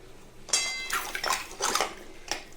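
Brass idols from a home shrine, scrubbed with leftover lemon, are rinsed with water; a few sharp metallic clinks and splashy rinsing bursts come close and fairly loud, with no talking.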